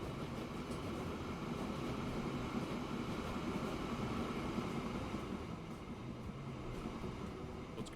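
Iron freight train rolling along track in Transport Fever 2, a soft continuous rumble with faint clicking from the rails, steady and somewhat distant, no voices.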